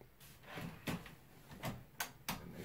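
Epson WF-C5210 printer ink tanks sliding into place, giving several short, sharp plastic clicks and snaps spread across a few seconds, fairly faint and close with no talking.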